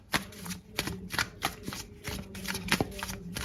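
A deck of Osho Zen tarot cards is shuffled by hand in quick riffling bursts, close and crisp, repeating in a rapid rhythm with no talk over it.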